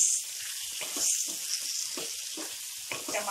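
Spiced parwal (pointed gourd) and tomato sabzi fries in oil in a kadhai, a constant close hiss and sizzle with several soft stirring strokes, no talking.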